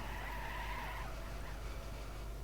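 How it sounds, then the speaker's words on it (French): Tires squeal and skid in a racing video game as cars crash, a loud sustained screech over engine roar that fades into continuous rushing noise. "Oh, double crash au même endroit des deux joueurs"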